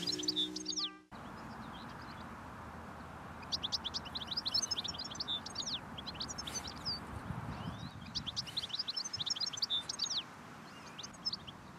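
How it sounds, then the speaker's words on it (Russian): A small bird chirps at its nest in bursts of quick, high tweets, fairly close over a soft outdoor background hum, with no talking. "Я слышу, как она там чирикает."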